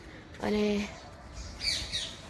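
On an early morning around half past seven, a parrot gives a short, harsh squawk up overhead, followed by fainter chirps from other birds, while a person briefly speaks nearby.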